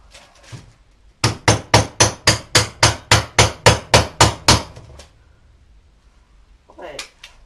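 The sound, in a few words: small hammer striking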